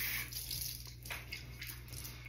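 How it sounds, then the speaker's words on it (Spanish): Water runs steadily from a bathroom tap while hands are wetted during a skincare routine with a cleansing oil, a continuous close hiss with small splashes and shifts as the hands move under the stream. "Te mojas tus manos"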